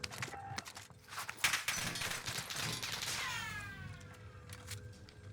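Gunfire on Fortune's Keep in Call of Duty: Warzone, with bursts of distant shots and rapid cracks scattered among footsteps and movement sounds, at fairly low volume and unevenly spaced.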